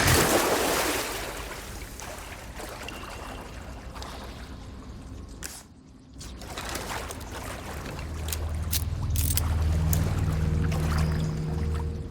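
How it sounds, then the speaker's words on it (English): Boots wade slowly through water in Resident Evil 4 Remake, giving a continuous sloshing and splashing wash with a short dip near the middle, then a low droning tone from the game rising underneath; no one speaks. "listening to the realistic sound of your boots wading through water as you slowly maneuver through some of the game's more hellish locations"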